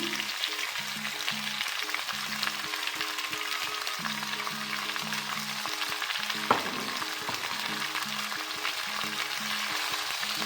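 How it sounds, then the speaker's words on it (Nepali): Sugar and mango pieces stirred in a pan for sweet mango pickle as the sugar melts, a steady close sizzle with soft scraping strokes running throughout, no talking, with a melody playing underneath. "यसलाई चलाउँदै जान्छौँ। हाम्रो चिनी पग्लिँदै जान्छ।"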